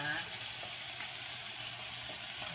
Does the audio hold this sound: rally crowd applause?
no